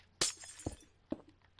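Glass blocks breaking in the Minecraft video game, three quick shattering crashes in a row, crisp and close, with no talk.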